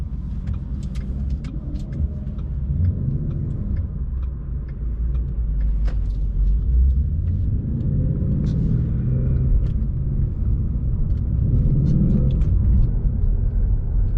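A Ford Mustang GT engine rumbles low and steady from inside the car as it drives, rising a little in loudness partway through, with faint clicks and rattles over it.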